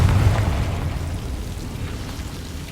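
A Confringo blasting spell explosion in Hogwarts Legacy hits at once with a loud, deep boom, then fades into a crackling, rumbling tail that dies away over a couple of seconds.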